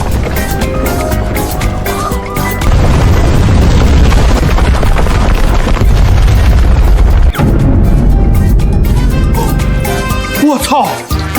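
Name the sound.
explosion, supposedly a gas canister blowing up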